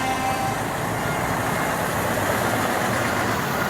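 A Scania truck idles at the Truckfest Scotland exit parade, its diesel engine holding a steady, loud, even drone with dense broadband noise and no speech over it.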